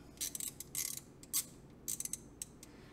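A ratchet snaps in short clicking bursts while tightening a 17 mm drain bolt on a Kubota Z725 zero-turn mower's transmission, with quick irregular strokes close up and no voices.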